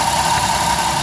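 A 6.5 turbo diesel engine idles with one plug pulled, giving a loud, steady, rough drone close by for a brief moment.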